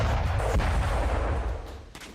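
A self-propelled gun fires on a frontline position near Bakhmut: a heavy, loud report with booming decay, then a second fainter thump near the end, no voices.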